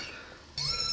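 Halfway through a quiet stretch, a small kitten lets out a sudden sharp, high-pitched meow, close and fairly loud, cut off at the end.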